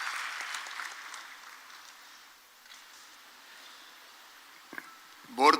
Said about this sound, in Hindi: तालियों से स्वागत माननीय मुख्यमंत्री जी का।